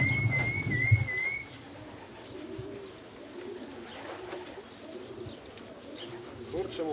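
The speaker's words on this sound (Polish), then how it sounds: "On też wszedł, czyli jest już piąty gołąb." Racing pigeons coming home to a loft at a Polish pigeon-racing club release, with a high whistle early on, soft cooing and wing movement over outdoor ambience and faint background voices.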